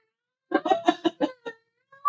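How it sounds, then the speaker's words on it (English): A female cat in heat yowls nearby in a run of drawn-out, wavering cries, then gives one more short call after a brief pause. The cries stand alone against silence. "our other cat is in heat right now, so you may hear her."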